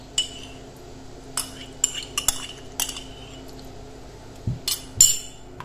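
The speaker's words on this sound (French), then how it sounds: "j'ai nettoyé mon riz semi-complet et ensuite je le mets dans un bocal" Semi-wholegrain rice being put into a jar: a sparse series of light clinks and taps, some sharp, others softer, separated by short quiet gaps in a hushed room.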